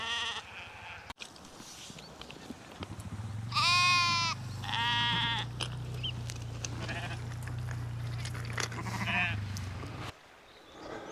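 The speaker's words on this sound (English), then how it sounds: "When I first came into the campsite, all you could hear was the sheep." Several loud, wavering sheep bleats close by at a campsite on the island of Kerrera, off Oban, a couple in quick succession then fainter calls, over a low steady hum and light background noise.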